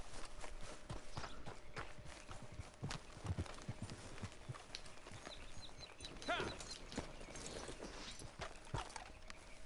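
Horse hooves clip-clop across open ground in Red Dead Redemption 2, a faint, fairly steady rhythm of soft thuds mixed with other game ambience and occasional scuffs.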